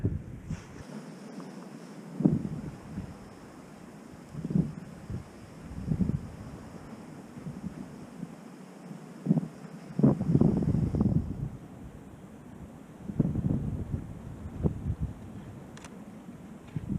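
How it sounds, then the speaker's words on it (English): Strong coastal wind buffets the microphone at Brixham, producing gusty low rumbles that swell and fade in uneven bursts with no one talking. "Hopefully you can still hear me in this quite strong wind."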